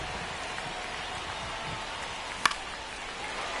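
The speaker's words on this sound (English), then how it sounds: "This rain is not letting up." Steady rain pours down during a baseball game, a continuous broadband hiss of drops on surfaces filling the whole clip, with one sharp brief tap standing out partway through.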